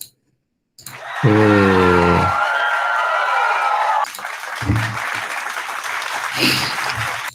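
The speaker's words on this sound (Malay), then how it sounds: "Mana cikgu punya tepukan ni?" Applause plays during an online maths class held over Google Meet, a sustained clapping sound effect that runs for several seconds at close, even loudness, with a brief bit of tonal sound near the start.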